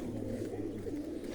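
Pigeons at a breeders' loft coo steadily in a low, continuous murmur. The sound is close and fills the short stretch without any talk.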